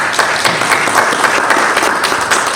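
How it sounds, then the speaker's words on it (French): Audience applause fills a public meeting for the Casablanca-Settat region of Morocco: dense, steady clapping from a sizable crowd, close and loud, without a break for almost three seconds. "Ça mérite d'être applaudi."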